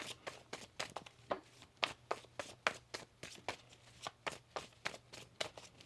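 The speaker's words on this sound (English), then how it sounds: "One more shuffle here." Tarot cards being shuffled by hand, a steady run of crisp riffling slaps repeating about twice a second, close and fairly quiet, with no voice over them.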